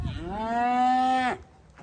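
A single cow lets out a drawn-out moo on a farm pasture, rich and tonal, rising slightly and ending abruptly after just over a second, close and clear with no voices.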